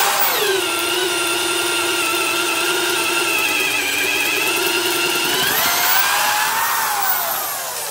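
A corded DeWalt 3/8 inch high-power carpenter's drill with a 1 horsepower motor runs loud and close at a steady whine, its pitch dipping under load and then rising before winding down near the end, with no talking.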